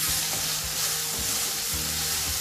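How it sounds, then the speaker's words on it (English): Onions and tomatoes frying in oil in a kadai for kadai paneer give a steady, dense sizzle, with a few dull stirring scrapes underneath, close and continuous, no talking. "I will now give everything a good mix."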